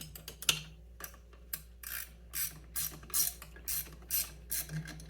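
A ratchet undoes a bolt on a JAWA 350 motorcycle during a barn-find restoration, with about a dozen quick clicking bursts in an uneven rhythm, close and fairly quiet.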